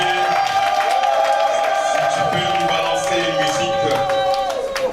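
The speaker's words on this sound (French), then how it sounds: "Encore une fois, applaudissez." Wedding guests at a religious wedding applaud and cheer as the couple walks forward, crowd noise and clapping under loud DJ music with sustained tones, steady and close.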